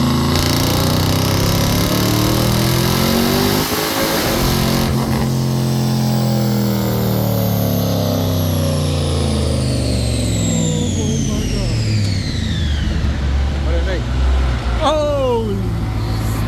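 Loud, close engine of a Dodge Challenger SRT Demon fitted with a Helion twin turbo kit with 72 mm turbos, a deep sustained rumble with revs rising and falling and whooshing turbo whine and spool sweeps throughout.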